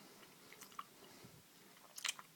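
Close, quiet chewing of a hard toffee, with soft sticky squishes and irregular crunchy clicks, ending in a louder burst of crunching near the end.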